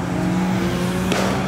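Modified car's engine at a night car meet revs hard and loud up close, a steady low roar with a sharp rising burst near the end.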